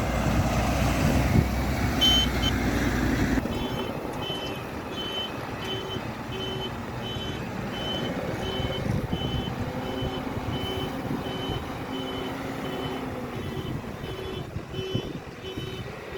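Lorry at a mining unloading point reversing with a steady, repeating electronic beep, close and clear over a continuous engine drone and background rumble, no talk.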